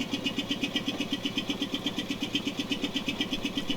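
A Deutz OMZ 117F locomotive diesel engine idles steadily in Train Simulator Classic, giving a loud, even stream of rhythmic low pulses with a bright mechanical overtone and no voices.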